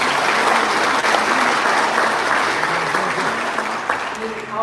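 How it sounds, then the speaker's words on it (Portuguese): A church congregation applauds during a service, loud sustained clapping with crowd noise and voices underneath, fading slightly toward the end. "Você pode aplaudir mais uma vez."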